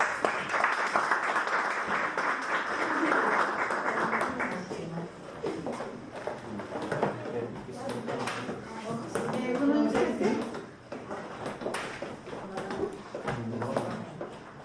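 An audience at a children's robotics coding course closing ceremony in İzmir claps for the young participants. The applause lasts several seconds, then fades as a speaker's voice takes over, with scattered taps and murmurs behind.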